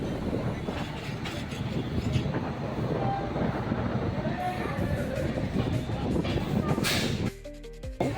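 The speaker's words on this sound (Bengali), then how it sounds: "আমাদের ট্রেন এখন তার পরবর্তী স্টেশনে এসে পৌঁছে গেছে" A long-distance passenger train from Durgapur to Jammu pulls into Kulti station, producing a continuous, fairly loud rumble and rattle of rail cars that drops away and eases off near the end; faint voices sit underneath.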